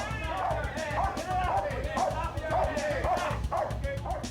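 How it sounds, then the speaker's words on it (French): A dog barks and yips repeatedly with agitated, whimpering bursts during a police arrest of a bloodied suspect surrendering from behind a refrigerator inside a building, the barking close and continuous over voices. "Le chien cherche à attaquer."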